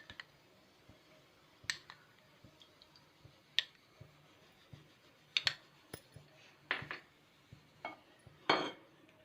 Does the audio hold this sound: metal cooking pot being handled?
yes